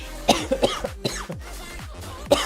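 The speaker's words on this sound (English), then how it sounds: "Sorry for the cough." A few sharp, close coughs burst out in quick succession, then one more cough follows after a short pause; nobody speaks.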